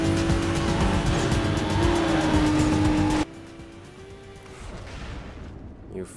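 Lamborghini racing in Need for Speed Most Wanted, with a loud, steady engine drone and sustained tire squeal for about three seconds that cuts off abruptly, then a quieter engine hum and further skidding.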